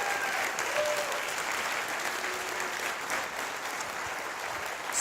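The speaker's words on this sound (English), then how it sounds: "so big round of applause for him." An audience applauds an award recipient at an Air Force Research Laboratory event, with dense, continuous clapping that stays even and full throughout.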